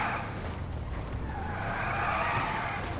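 Car tires skid and squeal steadily in the GTA video game as a car with a stuck accelerator spins out, a loud continuous screech over engine rumble.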